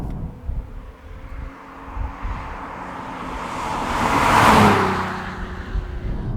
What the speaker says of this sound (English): The exhaust note on this car is also perfectly judged, having a custom system made by the people at Thorny Motorsport